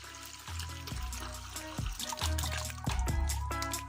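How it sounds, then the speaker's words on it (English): Water gurgles and sloshes through a hand-squeezed gravel pump drawing water out of a fish tank, with repeated pumping strokes and a steady liquid rush building in volume, no talk. "all I have to do is simply stick my little gravel pump in and just start pumping"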